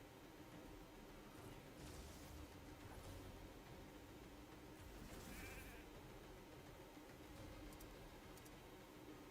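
Sheep bleating in a video game after a character is polymorphed into a sheep during a raid siege, a steady game soundscape running throughout.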